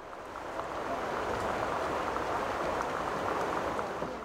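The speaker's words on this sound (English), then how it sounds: "The rain is coming down stronger." Steady rain falls at an outdoor market, making a dense, even hiss with faint patters. It is moderately quiet and continuous, with no voices.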